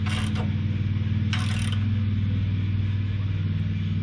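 A wrench cranks down a bolt on a hitch receiver with a steady mechanical ratcheting creak over a constant low rumble, with two brief bright bursts of metallic ticking.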